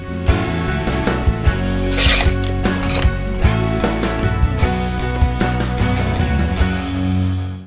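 A ratchet works to break loose a bolt on a Harley-Davidson FXR motorcycle during stator replacement, a loud, close, steady stream of clicking pawl and grinding mechanical noise.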